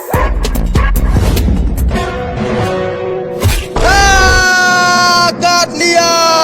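A dog named Tommy gives several sharp barks and yips early on, then a long, loud, strained howl-like cry swells near the end, with other vocal sounds mixed in.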